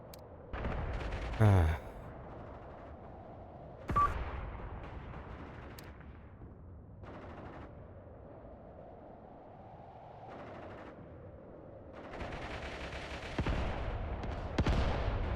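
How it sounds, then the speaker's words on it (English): Mortar rounds land around a tank in the Mius Front war game, sounding as several sharp booming impacts with rumbling decay, spaced irregularly over quiet battlefield ambience. "Mortars are now targeting this tank."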